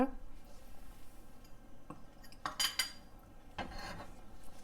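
A utensil stirs and scrapes against a metal pot as tamarind water is mixed into Tirunelveli-style idi sambar, with a few sharp clinks and scrapes over quiet background, close by.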